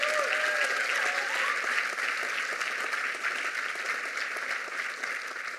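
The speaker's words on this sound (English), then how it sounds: "let's give a round of applause" Audience applause fills a graduation ceremony hall, a steady dense wash of many hands clapping from start to finish, with a cheer or whoop rising briefly near the beginning before the clapping tapers slightly.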